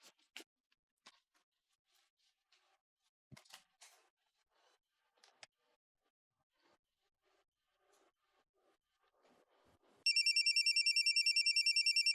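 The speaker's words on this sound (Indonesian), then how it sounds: "Tadi kamu udah nelpon, sekarang nelpon lagi." A phone rings with an incoming call: a loud, regular electronic ringtone pulses in near the end, after a quiet stretch of faint scratching and small handling sounds, with no talking.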